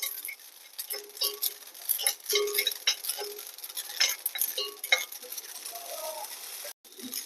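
Garden cress seeds (ashali), wiped dry rather than washed, roast in a pan while being stirred, giving a soft steady patter of scraping and light ticking with faint sizzle throughout.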